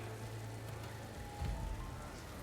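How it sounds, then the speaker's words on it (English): Steady rain falling in a desert area of the video game Horizon Forbidden West, a constant close hiss with a low rumbling bed and a slight swell midway, no talking. "rain in the desert always feels so nice."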